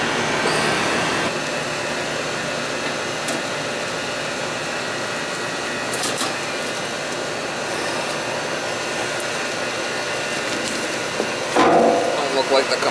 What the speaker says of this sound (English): Look like the compressor's running.